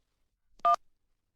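A single short telephone keypad tone sounds as a number is dialed, a brief clean beep alone in near silence.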